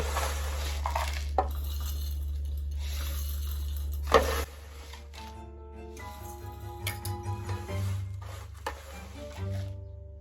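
Granola scooped through a jam funnel into a glass Kilner jar, with soft rustling pours and light clinks of glass and utensil, intermittent and close, under a steady low hum.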